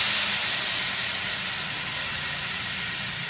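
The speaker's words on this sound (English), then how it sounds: "So now time for the wine. We're gonna deglaze the pan." White wine hitting a hot pan of chicken and garlic gives a steady, loud sizzling hiss that holds evenly throughout, close up with no talking.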